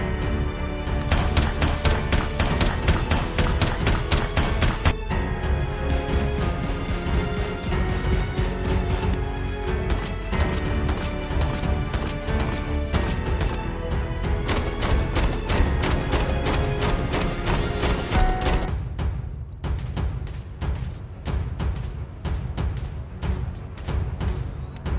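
An SKS sniper rifle switched to automatic fire in Call of Duty Mobile battle royale lets off a long, rapid, loud string of sharp shots. The fire runs continuously for well over ten seconds, then stops abruptly.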